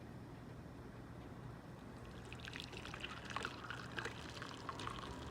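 Masala tea is strained and poured into a cup, a soft trickling, splashing pour that starts about two seconds in and continues faintly over low background hum.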